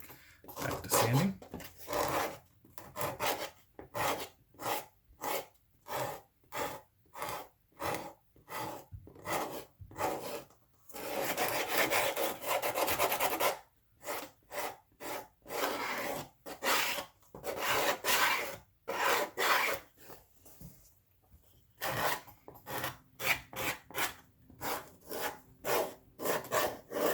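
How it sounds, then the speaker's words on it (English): Sanding on a leather journal cover, steady repeated rasping strokes close up, rhythmic back-and-forth bursts with brief pauses, including a longer continuous stretch partway through, with no talking. "Back to sanding."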